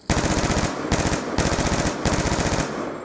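Sustained fully automatic FAL rifle fire in a video game, three long loud bursts separated by brief gaps, dense and continuous with no talking.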